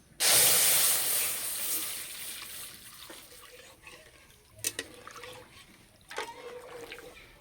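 Cow's milk, one kilogram, poured into a kadai: a sudden rushing splash that fades over a few seconds, followed by a few light clinks and knocks near the pan.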